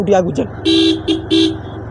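A vehicle horn honks three times in short bursts nearby, following a brief voice at the start.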